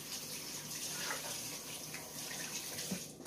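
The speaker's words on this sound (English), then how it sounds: "Rinse my hands." Tap water gushes steadily from a faucet into a sink while hands are rinsed during seafood preparation in a home kitchen, a soft continuous stream heard alone at moderate distance.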